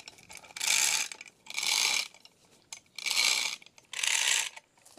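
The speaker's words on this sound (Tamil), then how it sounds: "இப்போ நம்மளோட செயின் பிளாக்கை வந்துட்டு நம்ம டைட் பண்ணலாம்." A chain block hoist rated for two tons ratchets a rope tight in four steady, even bursts of clicking with short pauses between, close and clear with no talk.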